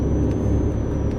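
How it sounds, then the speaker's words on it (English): Truck engine in the Euro Truck Simulator 2 game, played on a home PC simulator rig; a loud, steady low diesel rumble with a faint thin whine above it, heard alone for a moment. "You mean the truck sound?"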